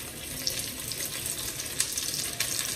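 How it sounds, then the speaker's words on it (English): Hot and sweet sausages fry in a pan with a steady, fairly quiet sizzle and crackle and a few brief pops throughout, with no voices. "We got both the hot and the sweet sausage frying up"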